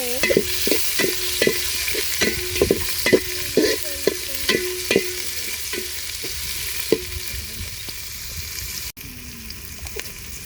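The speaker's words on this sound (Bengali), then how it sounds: "গরম মশলা পেঁয়াজ কুচি কাঁচামরিচ ভেজে" Garam masala, chopped onion and green chillies frying in a pan while cooking meat khichuri, with a spatula scraping and stirring in an irregular rhythm over a steady sizzle, close and fairly loud, ending in a softer hiss.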